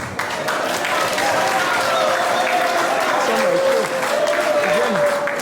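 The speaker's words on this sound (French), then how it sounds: "Applaudissez pour vous-même." An audience at a community installation ceremony in Cologne applauds with sustained clapping and crowd noise, while voices and a faint tonal murmur carry on beneath the steady applause.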